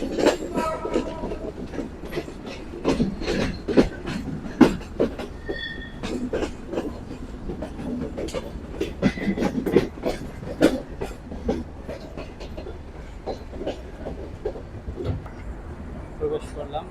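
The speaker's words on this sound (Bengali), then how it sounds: "এই আমাদের রূপসা ট্রেনটি পার্বতীপুর রেলওয়ে জংশনে।" Rupsha train at Parbatipur railway junction clatters along with rhythmic clickety-clack wheel beats and occasional squeals, steady and fairly close for the whole stretch, with voices talking over it.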